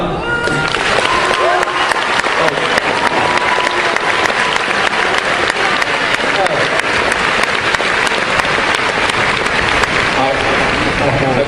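A debate audience claps at length, loud dense applause from a large hall holding steady for about eleven seconds, with scattered voices mixed in.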